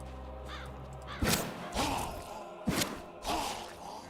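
Two magic missile shots from a wand in Diablo 3, each a sharp thump followed by a swelling whoosh, spaced about a second and a half apart over a quiet game backdrop.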